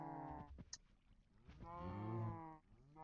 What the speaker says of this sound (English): those cows are so loud.